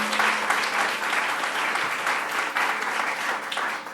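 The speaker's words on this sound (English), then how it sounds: "Let's give a round of applause to Lenny for what he does." An audience at a New York state government event on housing and lead exposure applauds, a dense, steady clapping from a crowd that holds for several seconds with no voices above it.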